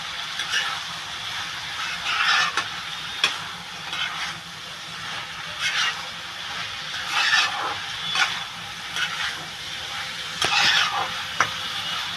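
Shrimp go into a banana blossom ghonto frying in a pan, heard as rhythmic scraping stir strokes, about one every second or two, over a soft, steady sizzle.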